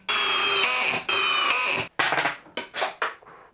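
A Flex cordless drill running in 2nd gear on a small battery, in several bursts of steady whine with short pauses, then shorter choppy pulses toward the end, close and loud with no talk.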